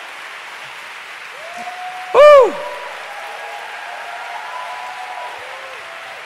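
A church congregation applauds with a dense, steady patter of clapping while a single loud whooping cheer rises briefly over it.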